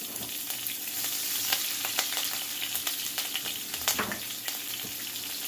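Curry leaves and green chili frying in oil for a mutton liver fry crackle continuously, with sharp, irregular pops spattering over the hiss throughout.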